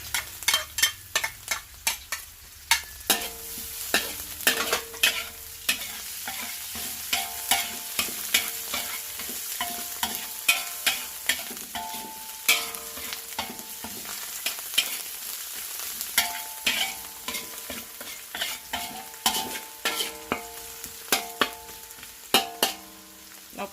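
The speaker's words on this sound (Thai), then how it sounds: "เจียวไปจนกว่าหัวไชโป๊กับหัวหอมจะสุกนะคะ" Preserved radish and shallots are stir-fried in a large wok for pink coconut-milk noodles. Rhythmic metal scrapes and clacks from a spatula repeat steadily over a low sizzle, close and fairly loud.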